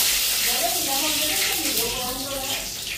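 Cumin seeds and bay leaves sizzle in hot oil for a Bengali home-cooked dish, a steady close hiss and crackle that stays loud throughout and tapers slightly at the end.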